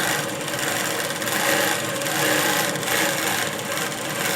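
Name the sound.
sewing machine stitching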